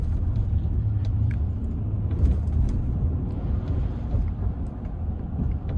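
Cabin of a 2024 Ram 1500 Limited pickup on a bumpy road, a steady low rumble of tires and engine with faint knocks and thumps from the uneven surface, no voices.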